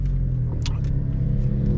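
A 2023 Subaru WRX making about 300 wheel horsepower gives a few sharp exhaust pops and crackles over a loud, steady low engine rumble while driving.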